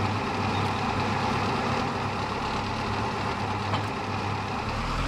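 Steady tractor engine idling in a farming game, a continuous low droning hum at constant loudness with no talk over it.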